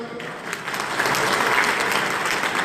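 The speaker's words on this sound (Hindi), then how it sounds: "एक बार सभी जोरदार तालियां बजाकर" Crowd at a BJP party workers' meeting breaks into applause, rising quickly from a soft start to steady, dense clapping that carries to the end.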